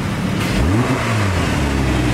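An Audi R8 engine revs hard and bounces against the rev limiter, a loud, close mechanical roar with rising and falling pitch sweeps, heard alone without talk.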